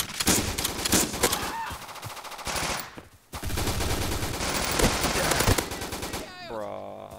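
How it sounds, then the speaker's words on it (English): Rapid gunfire rattles almost continuously in a browser shooting game, loud and close, pausing briefly midway before resuming, and ends in a tonal in-game sound effect. "How many shots did it take to kill that guy?"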